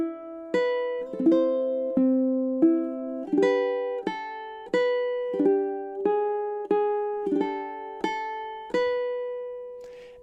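Solo ukulele plays a slow, lyrical passage from Chopin's Nocturne Op. 9 No. 2, measures 29 to 33, with about a dozen evenly spaced plucked notes and chords ringing close and clear, each decaying before the next, with no talking.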